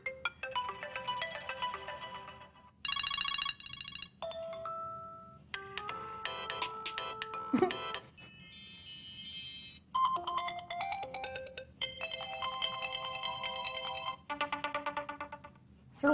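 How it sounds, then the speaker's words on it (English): New iOS 7 iPhone ringtones play one after another, a series of short melodic electronic tunes and chimes separated by brief gaps, heard alone at moderate volume. "new ringtones"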